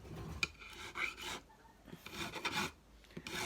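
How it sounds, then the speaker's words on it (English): Sanding block rubbed back and forth across guitar frets to round them over, a quiet raspy scraping in several short strokes with brief pauses between. "I'm then going to repeat with the rounding over process with this sanding block."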